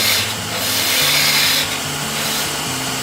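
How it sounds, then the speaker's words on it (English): A parting tool cuts a tenon into a wooden Christmas ornament blank spinning on a lathe, giving a steady, close scraping and rasping hiss over the machine's low hum, with no talk. "I take my parting tool and I cut a tenon from the chuck."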